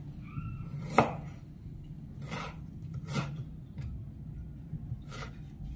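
Ginger is chopped on a cutting board in a home kitchen, the knife landing in a few sparse, soft thuds at irregular intervals over a low background hum.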